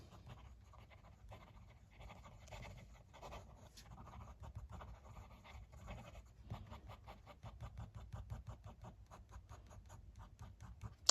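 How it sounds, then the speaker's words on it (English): A Benu Beam Me Up fountain pen scratching quickly across paper in a series of rapid, close, faint strokes that speed into a busy stream of short scrapes near the end. "it writes smooth, very smooth. Like under its own weight, it kind of writes perfectly. Fast writing."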